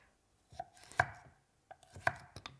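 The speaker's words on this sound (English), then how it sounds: "as I'm chopping the vegetables, I'm dropping them into the pot" Knife chopping vegetables on a cutting board for a nine-bean soup, a few distinct sharp chops spaced apart with soft clatter between, close and fairly quiet, no talking.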